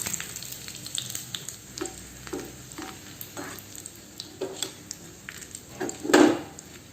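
Dried red chillies fry in hot oil for a tempering, giving a soft continuous sizzle punctuated by scattered spoon-on-pan clinks and stirring, swelling into a louder crackling burst near the end.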